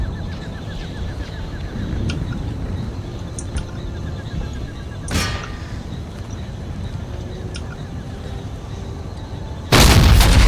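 Mortar artillery in the video game Empire Total War thuds in scattered booms across a busy battlefield, with one sharp blast mid-way and a loud burst near the end over a low background din.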